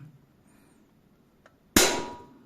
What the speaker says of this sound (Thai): ยิงกับกระป๋องชเวฟนี่แหละ